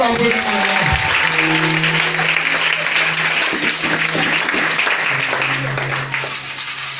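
A church congregation at a sanctification seminar applauds in sustained, dense clapping to acclaim the Lord, with voices and a tonal hum running underneath throughout.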